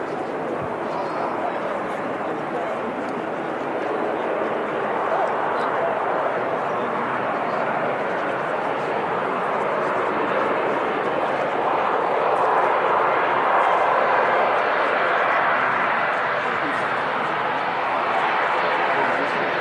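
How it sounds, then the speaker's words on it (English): An Emirates Boeing Dreamliner airliner landing at Manchester Airport, a loud, continuous jet roar that holds steady and swells slightly, with a voice talking over it. "This is the Dreamliner, operated by Emirates Airlines"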